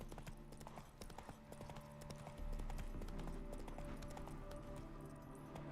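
A horse's hooves clip-clop steadily in a continuous rhythm in the video game The Witcher 3, with a deeper rumble joining partway through.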